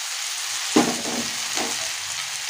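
Bottle gourd pieces dropped into hot oil tempered with cumin seeds and dried red chili, giving a steady close sizzle with a few louder bursts as the vegetable hits the pan and is stirred, no talking.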